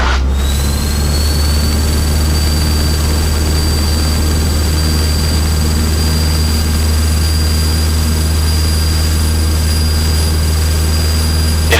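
A small training airplane's propeller engine roars at full power on takeoff, a loud, constant droning hum with a steady whine running throughout, close and unbroken.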